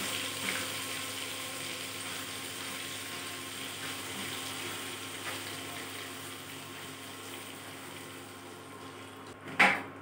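Butter sizzles softly in a pan at home as a chicken stew gets started, a steady low frying hiss with one brief clatter near the end.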